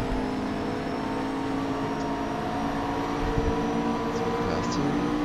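Race car engine in Assetto Corsa, a steady, loud, droning hum held at high revs while drafting down a straight, with no change in pitch and no talking.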